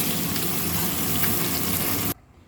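Eggs and potatoes frying in hot oil give a loud, steady, close sizzle with dense crackle, cutting off abruptly near the end.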